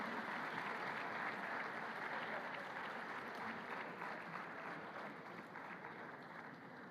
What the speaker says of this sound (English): Please give them a big round of applause as they come in,